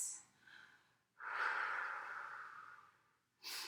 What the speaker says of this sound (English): Get those 2 or 3 nice deep breaths.